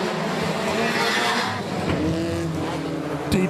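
Stock cars roar off the start of a Border Stockcars race, a dense crowd of engines revving hard with tyres scrabbling and squealing for grip, loud and close throughout with a sharp burst near the end.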